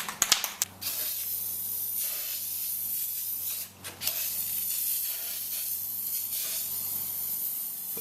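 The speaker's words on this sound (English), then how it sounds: "The crappy rattle can keeps spitting." A rattle can sprays Plasti Dip onto a Toyota Tundra grill in close, hissing bursts, with a few short sputtering puffs at the start and a brief break midway before the steady spray resumes.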